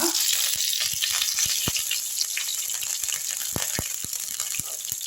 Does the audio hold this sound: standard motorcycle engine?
no